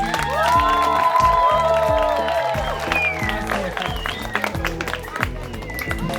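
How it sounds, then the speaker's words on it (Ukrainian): Children at a summer camp applaud and cheer together with loud, steady clapping and excited shouts, while music and voices carry through the whole stretch. "Давайте оплески."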